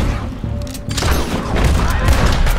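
Gunfire in the Red Dead Redemption 2 video game, a dense close volley of booming shots and thuds that thickens into a continuous barrage, with no talk over it.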